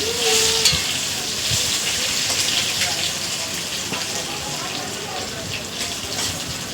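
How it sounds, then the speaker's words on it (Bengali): Potato pieces fry in a pan of oil until reddish, making a steady, close, bubbling sizzle that holds at an even level from start to finish. "আলুটা সুন্দর করে ভেজে নিতে একদম লাল লাল করে"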